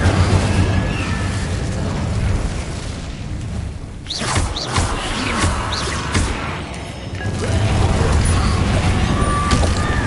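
An Incendio fire spell goes off in Hogwarts Legacy gameplay as a loud, booming burst of flame. Rumbling blasts and whooshing effects continue over a dense backdrop of game sound.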